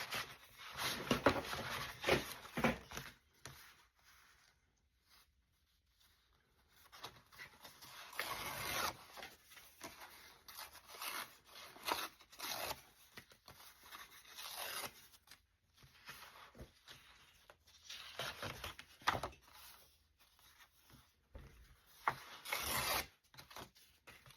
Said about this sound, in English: Kind of satisfying ripping paper.